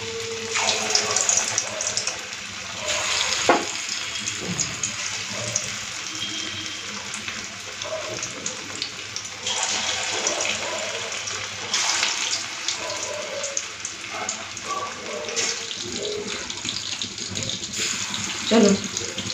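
Lentil-paste loté fish pakoras fry in hot oil, a steady, dense sizzle and hiss that holds from start to end with small pops and flare-ups and no talk.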